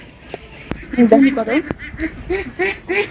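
Ducks quack repeatedly beside a village pond, loud nasal calls close by in bursts, with people talking over them.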